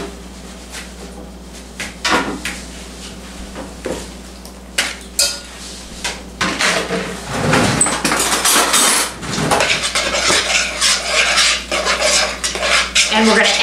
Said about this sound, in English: And we're going to return macaroni to pot.